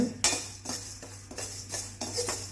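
Urad dal dry-sautéing in a pan, a metal spoon scraping and tapping the pan in a few separate strokes amid a soft rustle of lentils, close and moderately loud.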